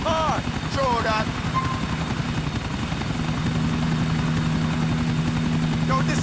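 A helicopter flies in the GTA IV video game, its steady, loud rotor drone running throughout, with voices speaking over the first part.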